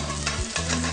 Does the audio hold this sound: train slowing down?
no